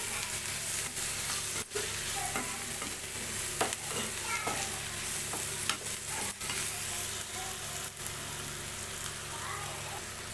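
Spices with turmeric and garam masala fry in a pan with onions while being stirred, giving a continuous soft sizzle broken by repeated scraping knocks of the spoon, no speech.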